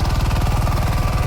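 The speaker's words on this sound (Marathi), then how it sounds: "2 ट्रॅक्टर आहेत." A tractor engine idles on a farm, chugging with a steady, rapid mechanical pulse, loud and close with no voices over it.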